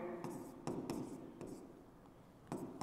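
Pen scratching on paper as a tablet name is written in Hindi, a series of short, close, quiet strokes at an irregular rhythm, with faint low talk or whispering beneath.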